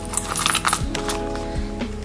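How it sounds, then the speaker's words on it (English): A few coins clink and jingle briefly inside a small Louis Vuitton key pouch, close up, in a short burst of bright metallic taps. "And also I can carry few coins in there"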